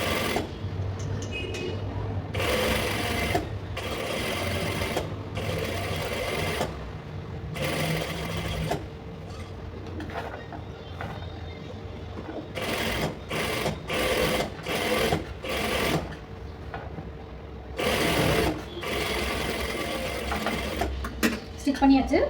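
A sewing machine stitches patchwork fabric in repeated short runs of close, steady whirring, broken by brief pauses between passes.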